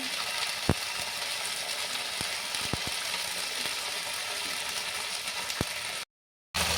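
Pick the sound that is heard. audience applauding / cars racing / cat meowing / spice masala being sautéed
spice masala being sautéed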